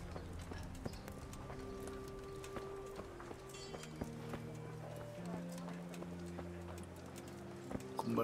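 Hooves clip-clop at a walking pace in a town in the video game Kingdom Come: Deliverance, under soft background music, with scattered clicks and the occasional snort from a horse.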